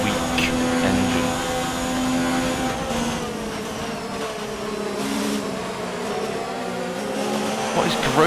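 Formula 1 car engine in the F1 2019 video game droning and shifting pitch as it revs, with other cars audible around it and some background noise throughout.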